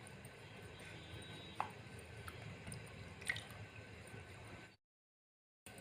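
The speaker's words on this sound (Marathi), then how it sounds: "आता इथे मी बटाटे धुवून काढत आहे गार पाण्याने" Potatoes are washed by hand in cold water, giving faint, continuous splashing and dripping with a couple of sharper drops, before the sound cuts to silence near the end.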